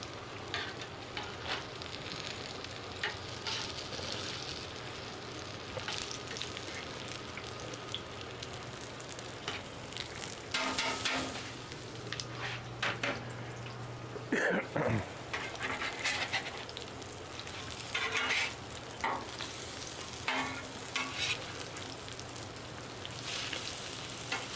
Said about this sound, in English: Hot grease.